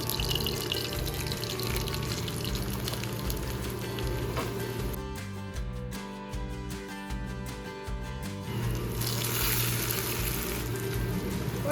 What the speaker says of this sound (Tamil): இப்போ தாளிச்சிக்கலாம் இப்போ தேவையான அளவு எண்ணெய் ஊற்றிக்கலாம்